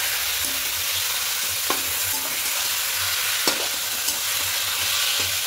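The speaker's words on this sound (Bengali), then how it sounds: "এবার এখানে ম্যারিনেট করা চিকেনটা দিয়ে দেব। খুব ভালো করে মিশিয়ে দেবো সব কিছু।" Marinated chicken frying in a pan for milk chicken, a loud continuous sizzle with a few soft spatula scrapes as it is mixed, close up with no voices.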